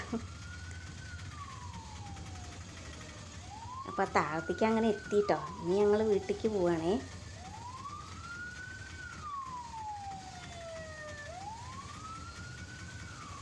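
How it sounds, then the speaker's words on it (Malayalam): An ambulance siren wails, rising and falling repeatedly at a moderate distance, passing by over road noise, with a person talking briefly in the middle. "അതിൻ്റെ ഇടയിൽ ഒരു ആംബുലൻസ് ഒക്കെ പോകുന്നുണ്ട്"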